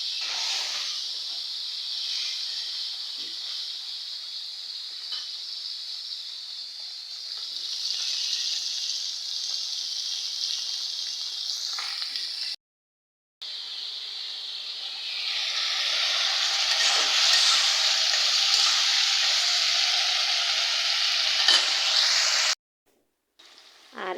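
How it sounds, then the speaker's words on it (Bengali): Bata fish frying in a pan gives a steady, loud hiss of sizzling oil that carries on without pause apart from two brief drops into silence, with no voices over it. "তো এই যে আমি এখন বাটা মাছ ভাজতেছি, ভালোভাবে ভাজা শেষ হলে নামাই নেব।"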